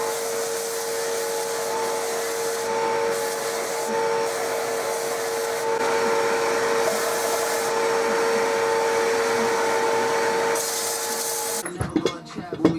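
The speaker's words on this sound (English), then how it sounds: "I'm going to use the belt sander to take off the paint." A belt sander strips paint from plywood offcuts with a loud, steady whining roar that runs unbroken for about twelve seconds, then cuts off into a few knocks.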